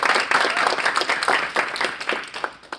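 A crowd applauds steadily for a few seconds, a dense wash of clapping that thins out toward the end.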